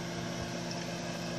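A kitchen oven hums steadily while a potato cake with blueberry jam bakes inside, a constant fan-like whir with no breaks or voices.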